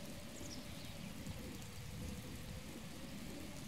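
Steady rain falls in Zelda: Breath of the Wild, a dense, even hiss of drops with a low rumble beneath, continuous and unbroken throughout with no voices.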